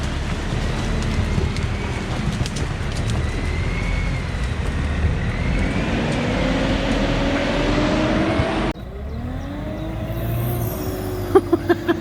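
A Sherp 10 by 10 all-terrain vehicle rumbling along with a broad, rough engine roar and some whine, then the sound cuts to a quieter interior tone with a few clicks near the end.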